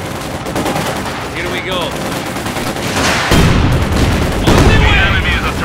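Gunfire and artillery rumble through a Company of Heroes 2 battle, with dense rattling shots and heavier booms building louder toward the end, while a voice briefly speaks over the din.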